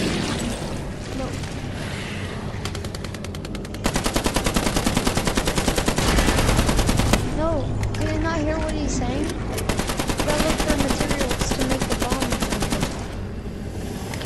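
Sustained automatic gunfire against kraken tentacles in the Killing Floor VR campaign, long rapid rattling bursts with brief pauses, loud and close, with game voices talking between and over the shooting.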